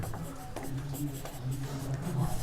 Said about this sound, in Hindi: अब हम लिखेंगे